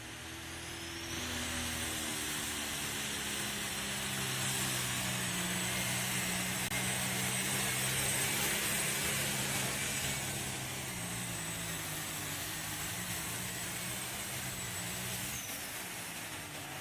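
A pulling tractor roars down the track at a tractor pull, its engine a sustained, somewhat distant droning rumble with shifting low harmonic tones that swells slightly mid-run and holds steady.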